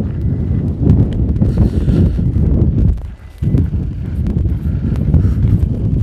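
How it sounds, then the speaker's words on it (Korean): Evening wind gusts at a mountain viewpoint near Hwasan Village in Gunwi, Korea, buffet the microphone as a loud, continuous low rumble with one brief lull midway. "근데 저녁이 되니까 이제 바람이 불기 시작하네요."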